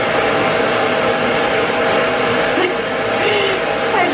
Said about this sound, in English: As you can see, she still likes to bite at the dryer.